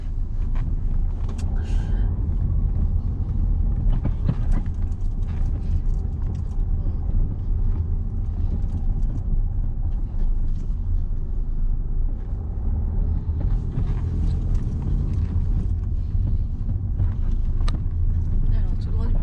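A car engine drones steadily at low pitch throughout while a learner driver is on the road, with wind and road rumble mixed in; people talk over it.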